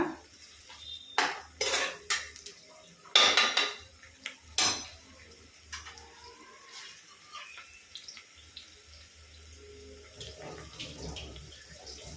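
Onions frying in a pan for vegetable pulao are stirred with a metal spoon, giving several sharp clanks and scrapes against the pan early on, then softer, sparse stirring noises.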